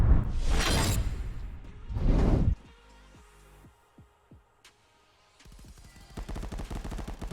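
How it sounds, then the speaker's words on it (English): Gunfire in the VR shooter Contractors: two heavy, loud bursts of rapid shots up front, then a quieter stretch of scattered single reports and a rattling burst of distant automatic fire toward the end. "I hear the shots happening."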